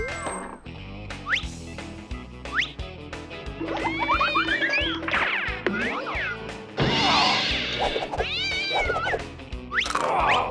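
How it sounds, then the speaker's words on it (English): A cat yowls and meows repeatedly in sharp, loud cries, mixed with bouncy cartoonish effects and scuffling hits, a busy comic fight sound for a fairy tale scene. "the cat jumped in and scratched his face"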